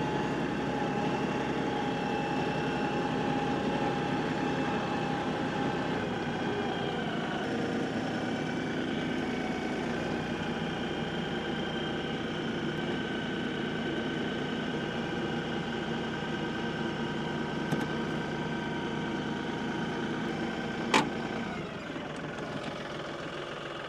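A tractor fitted with a front-mounted grade blade idles steadily nearby, a constant droning engine hum with no change in pace, plus one brief metallic tick late on.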